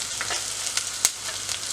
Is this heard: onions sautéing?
yes